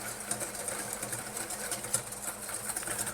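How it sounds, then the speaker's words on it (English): An egg mixture for zabaglione is whisked continuously in a bowl, making a fast, even rhythm of light clicking strokes at moderate volume, with no voices. "So I'll whisk this now for 3 minutes or so"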